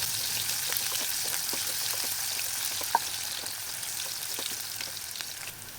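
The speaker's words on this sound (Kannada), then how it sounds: "ಈರುಳ್ಳಿ ಬಣ್ಣ ಬದಲಾಗೋವರೆಗೂ ಇದನ್ನು ಚೆನ್ನಾಗಿ ಎಣ್ಣೆಯಲ್ಲಿ ಫ್ರೈ ಮಾಡ್ಕೋಬೇಕು" Sliced onions frying in oil for a mutton fry make a continuous soft hiss with scattered faint crackles and one brief pop, heard close and alone.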